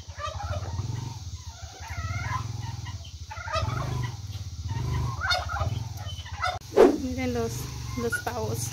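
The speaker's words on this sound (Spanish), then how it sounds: "Los pavos." Turkeys gobble in repeated bursts nearby, with barking and other fowl calls mixed in over a low, steady background.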